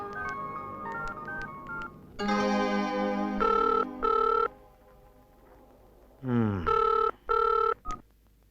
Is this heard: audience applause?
no